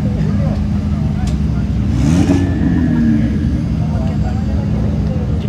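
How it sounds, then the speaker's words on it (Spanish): A turbocharged LS engine in a sleeper car revs at a car show, a steady low rumble with one brief throttle swell, heard amid crowd noise and voices. "Y obviamente no pueden faltar los sleeper car. Motor LS turbo. Madre, el motor"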